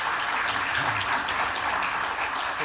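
An audience at a symposium claps steadily, producing a dense, sustained applause that neither swells nor fades and has no voices over it.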